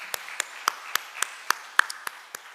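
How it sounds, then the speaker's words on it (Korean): A few scattered hands in a church congregation clap slowly in a sparse, evenly spaced rhythm, with distinct single claps rather than full applause. "감사의 박수를 돌려드립니다."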